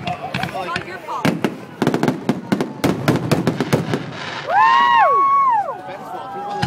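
Fireworks bursting over Hampton Beach, New Hampshire, on the Fourth of July: a rapid series of sharp cracks and booms, followed by rising whistling shells, with a crowd murmuring and people talking throughout.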